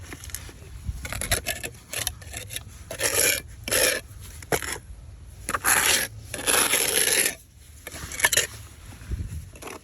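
A trowel packs and presses mortar into a crack in a house foundation, giving close, gritty scraping strokes in irregular bursts separated by brief quiet gaps.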